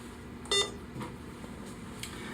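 Practivet veterinary infusion pump giving a reminder alarm, a short, sharp electronic beep heard once up close, followed by faint clicks over a quiet room background.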